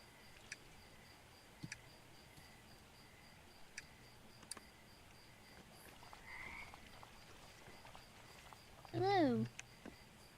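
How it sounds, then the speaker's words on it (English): Frogs croaking in the video game Mudborne, faint scattered clicks and croaks over a quiet ambient bed, with one louder warbling croak near the end. "So many frogs here."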